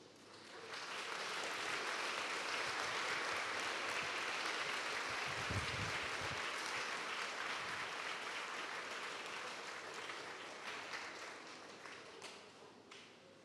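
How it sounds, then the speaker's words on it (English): Sustained applause from an audience at a school awards ceremony, dense steady clapping filling nearly the whole stretch before tapering off toward the end. "Big round of applause for all your 10 award winners"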